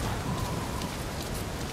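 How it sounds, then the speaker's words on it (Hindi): Heavy rain pours steadily in the video game Uncharted 4, a loud, unbroken hiss of rainfall with no voices over it. "बारिश भी बहुत ज़्यादा हो रहा है"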